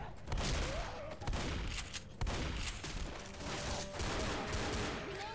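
Rapid gunfire from Left 4 Dead, fired in an apartment-building level, crackles in dense continuous bursts at close range, with a voice shouting intermittently over the shots.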